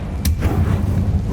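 Confringo fire spell blast in the Hogwarts Legacy video game, a single loud, close, booming impact with a deep rumbling low end that sustains through the short clip, no talking.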